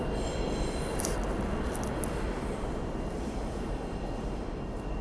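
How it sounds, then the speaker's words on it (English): A New York City subway train rumbles into a Brooklyn station, its broad steady roar filling the space with faint high squeals from the wheels, no talk over it. "I think my train's coming in right now."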